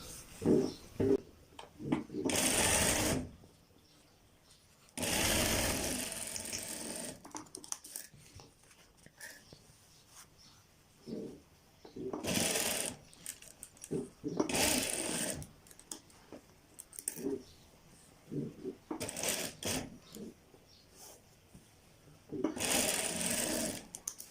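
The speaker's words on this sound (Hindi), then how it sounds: "सबसे पहले हम कफ की सिलाई लगाते हैं" A sewing machine stitches a shirt cuff in several separate loud bursts, each running a second or two with quiet gaps between, while a person talks during the pauses.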